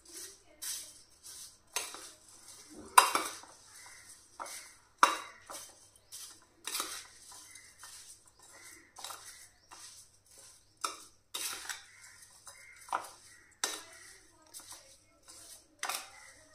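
Spoon clinks and scrapes against a pan as roasted spices and heated oil are stirred into a raw mango and ker pickle, a string of sharp metallic knocks at close range with some speech in between.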